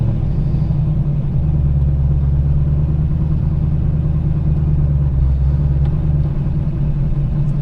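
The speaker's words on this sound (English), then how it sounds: "I'm gonna ease off the clutch and push in the gas" Manual stick-shift car pulling away in first gear, its engine giving a loud steady low rumble close by as the clutch is eased out, with no talk.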